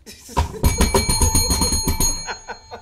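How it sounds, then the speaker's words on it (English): Bright bell rings out on a talk show set, several quick ringing strikes with a sustained tone that lingers and fades, close and fairly loud with no talk over it. "Oh, that bell magically appeared."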